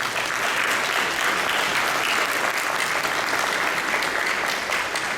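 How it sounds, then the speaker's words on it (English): Audience applause honouring a boys' track team, a dense, even wash of clapping from a large crowd that holds steady for several seconds. "Let's give them an applause."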